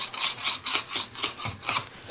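Hand sanding across a wooden box, with rhythmic rasping strokes back and forth about every quarter second, steady and close, no voices.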